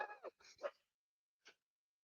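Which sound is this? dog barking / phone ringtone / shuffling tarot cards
dog barking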